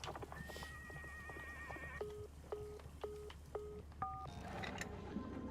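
Rhythmic musical track with stepped telephone-dialing tones, a whinnying horse and a few clip-clop beats mixed in.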